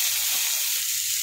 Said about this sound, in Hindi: प्याज को बस हमें इतना ही भुनना है